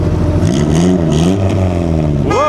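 A vintage Stanguellini racing car at the Mille Miglia passes close by, its engine note rising and falling as it revs through, loud and near, with another engine sweeping up at the very end.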